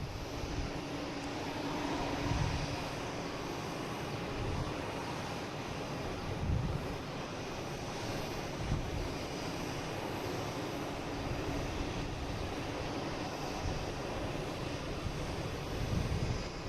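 Iberia Airbus A321neo arriving from Madrid, a steady distant jet engine roar with wind buffeting the microphone and faint low thumps throughout.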